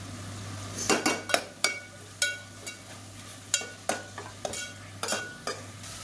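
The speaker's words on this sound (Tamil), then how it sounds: "இப்போ இதில் புதினா கொத்தமல்லி ஒரு கைப்பிடி அளவுக்கு சேர்த்துக்கலாம். சேர்த்துட்டு நல்லா வதக்கி விட்டுக்கலாம்." Mint and coriander leaves being sautéed in a pan for Brinji rice, with a soft steady sizzle under repeated close clinks and scrapes of a spoon stirring against the pan.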